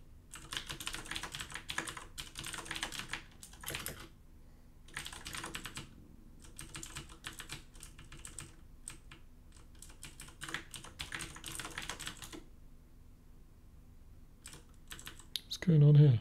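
Fingers clatter on a computer keyboard in uneven bursts of rapid keystrokes broken by short silences, close and clear, with a louder thump at the very end.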